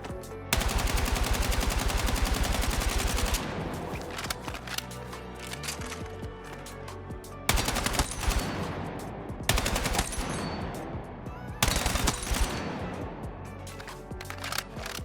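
Automatic rifle fire in the Battlefield 6 video game: long sustained bursts of rapid shots, loud and close, broken by short pauses and echoing tails between sprays.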